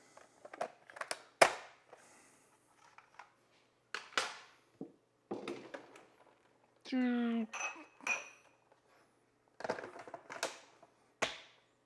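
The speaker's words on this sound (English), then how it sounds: "So, let's get to mixing." Protein brownie batter being mixed in a bowl makes scattered clinks and scrapes of a utensil against the bowl, spaced irregularly and fairly quiet, with a short squeaky tone partway through.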